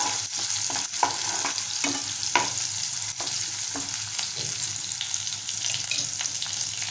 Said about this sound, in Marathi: थोडीशी मोहरी घालूया, छान परतवूया।